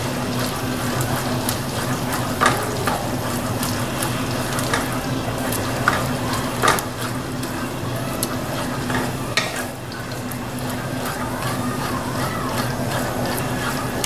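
A spoon stirs cheese into a thick roux in a pan, with a steady sizzle and a wet scraping swirl that runs continuously, punctuated by occasional sharper clicks and knocks.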